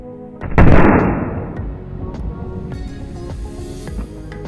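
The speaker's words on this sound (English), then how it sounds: "Now I'll put a firecracker under the cabin and see what happens." A firecracker blasts under the cabin of a model truck, one sharp loud bang near the start, followed by a clattering tail of debris and a few small pops that fade away.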